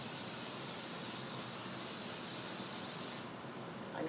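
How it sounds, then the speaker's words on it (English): Great Value nonstick cooking spray hisses onto a baking dish in one continuous, close spray lasting about three seconds, then cuts off sharply into quiet. "I'm going to spray this down with some nonstick cooking spray"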